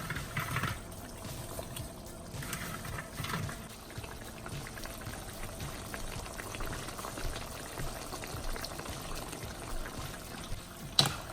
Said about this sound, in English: I'm just gonna mix them in the sauce.